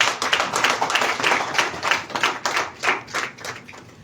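Audience applauding at a press conference in Mali's Maison des Jeunes: a few seconds of steady, rhythmic clapping from a modest crowd that swells and then tapers off.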